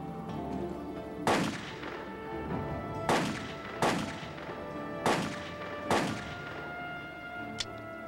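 Five loud gunshots from a gun loaded with blanks, sharp cracks spaced about a second apart with echoing tails, plus a small click near the end, with no talk.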